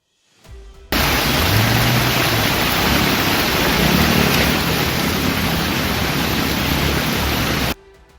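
Heavy rain pours during flooding in Gurugram, Haryana, a dense, loud, unbroken hissing roar that starts abruptly and holds steady for about seven seconds before cutting off, with no voices.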